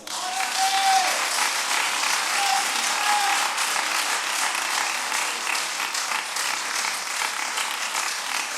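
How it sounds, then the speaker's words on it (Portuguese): A church congregation gives sustained applause after a testimony, a dense, even patter of many hands clapping for several seconds, heard at moderate distance with slowly fading intensity. "Dá uma salva de palmas."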